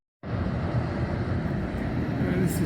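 A small road train, three trailers hauling explosives for the mines, passes on an outback highway near Cue, Western Australia, its loud steady rumble beginning abruptly and holding for the rest of the clip, with wind noise on the microphone.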